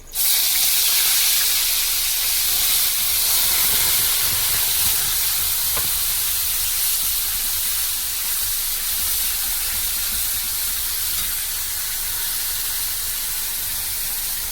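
Ground spice paste hitting a hot pan, giving a loud, continuous hissing sizzle that starts abruptly and holds steady, easing only slightly over fourteen seconds.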